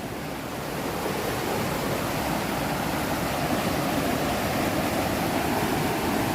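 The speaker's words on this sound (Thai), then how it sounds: "อันนี้เป็นทานน้ำจากน้ำตกนะครับ" Stream water from a waterfall in a Thai national park rushes steadily beside the campsite, a dense, even broadband roar close by with no voices.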